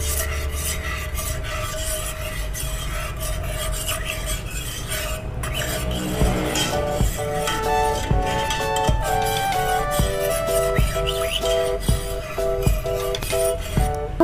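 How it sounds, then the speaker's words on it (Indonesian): A spoon stirs tea and sugar in a cup, scraping softly at first and then clinking repeatedly against the sides in a steady rhythm, close and fairly quiet. "Kita aduk sampai gula dan tehnya tercampur merata, sampai tidak ada yang menggumpal."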